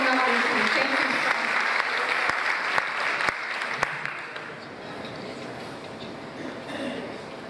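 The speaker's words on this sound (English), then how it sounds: "Let's give them a big round of applause." Audience applause at a board of education meeting for the Nutley team, a dense clatter of clapping with a few sharp louder claps, slowly thinning toward the end.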